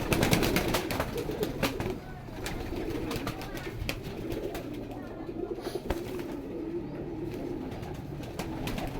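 Pigeons kept in a home loft of about seventy to eighty pairs coo steadily and low throughout, with frequent sharp clicks and flutters nearby and a busy, continuous background.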